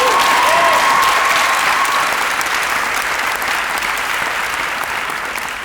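Loud, sustained audience applause fills a live blind-audition stage at The Voice Iceland 2015, a dense wash of clapping that fades slightly toward the end.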